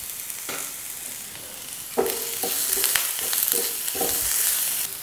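Sliced green chillies sizzle in a pan, a close, steady frying hiss broken by a few sharp crackles and stirring scrapes, with no one talking.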